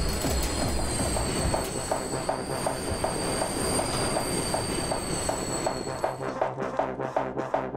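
Steady rumble of a train riding the rails in the video game Anger Foot, with a sustained wheel squeal and regular clickety-clack beats, loud and close, easing off toward the end.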